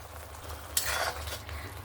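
Ground spices (turmeric, Kashmiri chili powder, hot chili powder and salt) frying in oil for a prawn dish, with a sudden louder sizzle midway and steady stirring scrapes, close up, no talking.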